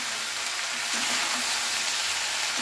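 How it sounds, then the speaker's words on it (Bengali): A ground ginger, garlic and cumin spice paste with chili and coriander fries in a pan with a dense, continuous sizzle, loud and close, for a Bengali fish curry. "এটা একটু ভালো করে নাড়াতে হবে, তলায় লেগে না যায়"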